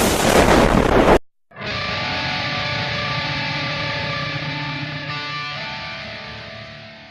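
A grenade goes off in a comedic skit about the game Diablo Immortal: a loud, dense blast lasts about a second, cuts to brief silence, then gives way to a sustained, ringing drone.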